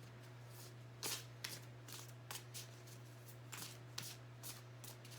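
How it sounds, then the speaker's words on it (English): Tarot cards are shuffled by hand in soft, repeated riffles and slaps. The bursts are irregular and fairly quiet, with a steady low hum in a quiet room. "And maybe someday I'll edit out all the shuffling."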